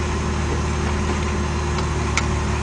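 The V6 engine of a Pontiac Fiero idles up close, a steady, even low rumble with constant loudness throughout and no talking.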